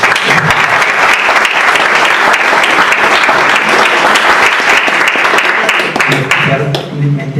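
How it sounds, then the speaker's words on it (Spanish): An audience bursts into sustained applause at an indigenous law forum, dense loud clapping from a crowd close by that holds steady for several seconds, then tapers off while a voice begins speaking. "démosles un aplauso muy especial"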